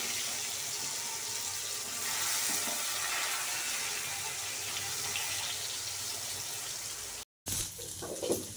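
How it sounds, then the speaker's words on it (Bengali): Bitter gourd frying in a pan gives a steady, soft hiss that carries on without a break, then cuts out briefly near the end before a few louder clattering noises. "এই যে আমি এখন উচ্ছে ভাজছি"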